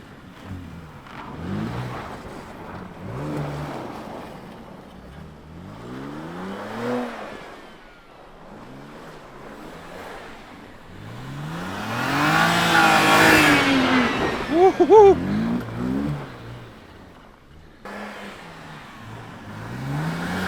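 Ice karts driving and drifting on a frozen track, engines rising and falling in repeated revving sweeps as they pass at varying distances, growing loudest midway with a short squeal-like whine.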